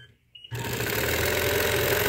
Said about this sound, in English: And now we're going to stitch back the other way into the point, down to my stitching line